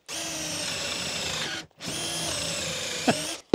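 A handheld power drill bores freehand into wood at a 22-degree angle in two sustained whirring runs separated by a brief stop, close and loud, ending with a small click, no talking.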